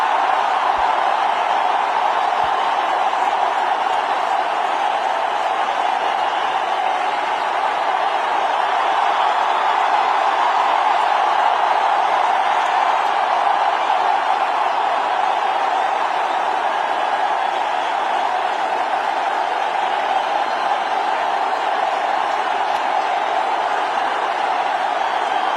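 A cricket crowd cheers in a sustained, even roar that stays distant and steady throughout, with no clear individual voices standing out.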